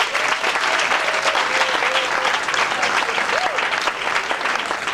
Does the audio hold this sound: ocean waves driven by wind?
no